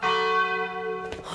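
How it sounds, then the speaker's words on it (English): A church bell in the Sword Art Online anime gives one loud, resonant stroke that rings on with bright overtones for about a second before other sounds cut in. "As soon as the bell rang."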